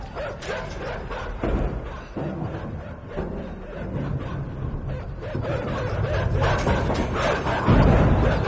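Dogs bark and growl in the side-scrolling game INSIDE, a steady close, loud flurry of yapping and thumps over game music that swells toward the end.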